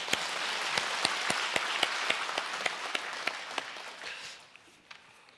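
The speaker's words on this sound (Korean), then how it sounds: "우리 박수 한번 칠까요?" A church congregation applauds during a Sunday service. The clapping is steady and moderately loud, punctuated by sharp individual claps, and tapers off toward the end.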